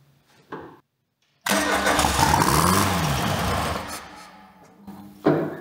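Engine on a homemade mini loader fires up after a short silence and quickly revs to full speed, holding a loud, steady mid-pitched roar for several seconds before dropping off, with brief voices before and after.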